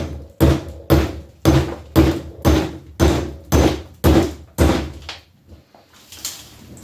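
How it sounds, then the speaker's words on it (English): Hammer blows on a large brick, about nine loud, sharp, evenly spaced strikes close by, followed by a few softer scraping knocks. "Let me see if I can break this big, kind of ugly looking brick into more sizable portions with a hammer."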